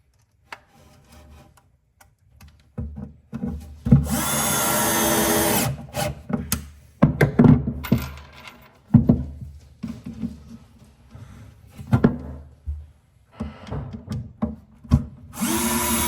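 A power drill drives screws into plywood runners inside a tool chest, sinking the heads below the surface. There are several separate bursts of whirring and high-pitched grinding, close up, with quiet pauses and handling clatter between them.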